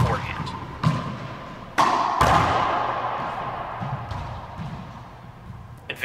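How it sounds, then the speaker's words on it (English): A rubber racquetball struck against a court wall gives several sharp, hollow thuds and smacks at irregular intervals, with reverberant court echo trailing each hit. "Players use a series of basic strokes, such as the forehand, to serve a rubber ball against the back wall to their opponent."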